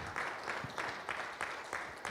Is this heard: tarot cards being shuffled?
no